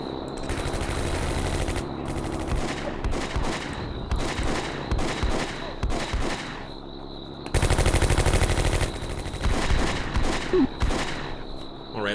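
Relentless gunfire in the WW2 game Combat Mission during a paratrooper assault on a radar station: long bursts of machine-gun fire with sharp single shots, loud and continuous, swelling heavier in the second half.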